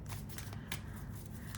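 A deck of tarot cards is shuffled up close, a continuous riffling flutter with sharp slapping accents over a soft background hum, lasting under two seconds without speech.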